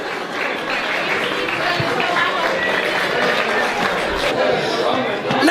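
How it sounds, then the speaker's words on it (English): Guests at a Dublin wedding reception applaud the couple before their first dance, a sustained crowd of clapping and chatter with an announcer's voice over the top. "Give them a big round of applause, ladies and gentlemen!"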